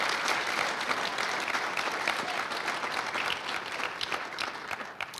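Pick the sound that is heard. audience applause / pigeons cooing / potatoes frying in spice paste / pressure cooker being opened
audience applause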